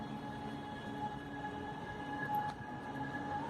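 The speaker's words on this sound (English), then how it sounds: "Our train is coming. I can hear it." Chennai Metro train approaching a station platform, a steady low rumble with a faint whine that holds at the same level for a few seconds, with no talk over it.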